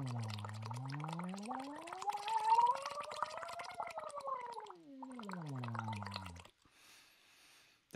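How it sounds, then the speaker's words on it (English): Breath blown through a straw or tube into a cup of water, a steady bubbling gurgle with a rising then falling pitch, close and fairly loud for about six seconds before a faint tail. "If I take a cup of water and I blow bubbles in it."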